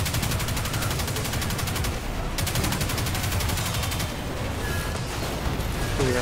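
Gunfire in Destiny 2, a sustained barrage of rapid automatic fire that stays loud and dense throughout, with booming impacts mixed in.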